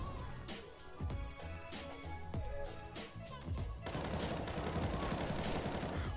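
Counter-Strike: Global Offensive gunfire from a standard M4 rifle, a dense string of rapid close shots with a steady, louder burst of continuous fire in the second half.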